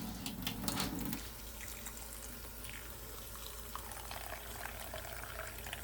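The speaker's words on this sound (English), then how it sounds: "And I'll go and put some water into this." Water from a kitchen tap runs into a bowl for oatmeal. A louder splash at the start settles into a steady, soft stream that goes on without talk.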